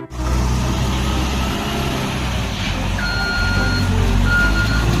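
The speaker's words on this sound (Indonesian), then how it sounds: "Yang berikutnya di sini sebuah mobil bulldozer." A toy RC bulldozer sounds a repeated electronic reversing beep that grows steadier toward the end, heard over a loud, constant motor hum.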